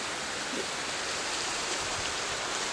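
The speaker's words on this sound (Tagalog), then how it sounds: "Lakas ng agos." A strong current of flood water from a typhoon in Malabon rushes steadily, a dense, unbroken roar of flowing water that fills the sound evenly from start to finish, with no voices.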